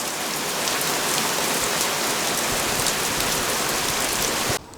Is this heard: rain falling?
yes